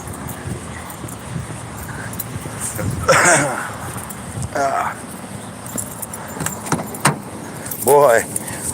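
Keys jangle in brief metallic bursts at a car dealership, with people talking nearby over a steady background hum.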